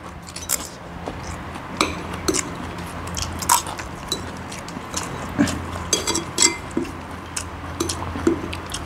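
Someone chews and bites through a simple home-style meal at close range, with scattered crunchy bites and light clinks of cutlery and dishes over a quiet background.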